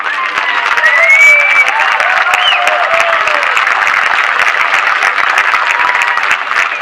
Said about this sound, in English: let's give a huge round of applause to Jim LeBlanc